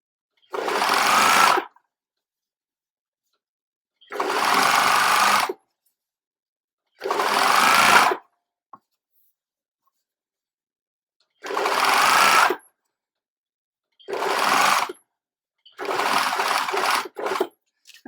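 Sewing machine stitching corset apron fabric in six separate whirring runs of about one to two seconds each, loud and close with silent pauses between.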